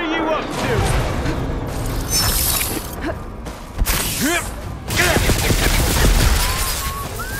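Combat in Horizon Forbidden West, with bursts of gunfire, mechanical clanks, shattering and whooshes layered over one another, loud and continuous, while a character shouts and speaks throughout.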